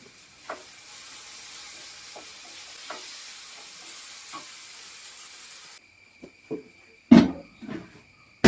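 Vegetables for a Kerala stir-fry sizzle softly in a pan with occasional scraping stirs, then the hiss cuts out and a few louder clanks of utensil against pan follow.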